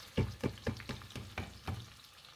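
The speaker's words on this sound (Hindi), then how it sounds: "फ्राई करेंगे प्याज को कि इसमें से क्रिस्टल से आपको दिखाई दें और इसका कच्चापन ख़त्म कर दें।" Chopped onions fry in oil in a pan for a fresh bean and beef qeema dish, heard as a quiet, soft sizzle broken by a rhythmic series of about seven thudding stirring strokes.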